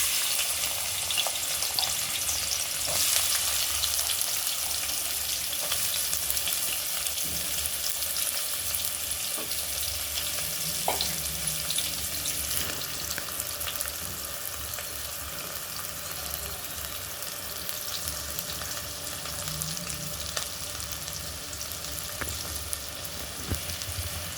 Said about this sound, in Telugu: ఇదే ఆయిల్లో మనం ఉల్లిపాయలు వేసుకుందామండి.